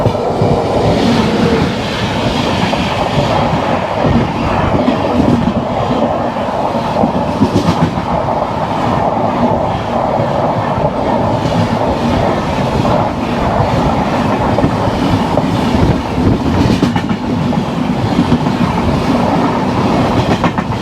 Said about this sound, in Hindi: We are overtaking some passenger train eight ठोकुर।